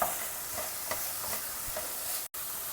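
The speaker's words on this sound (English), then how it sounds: "the vegetables should be sauteed well" Vegetables sautéing in a pan over a low flame, a steady bright sizzle with a few soft scrapes of stirring, briefly cut by a short dropout near the end.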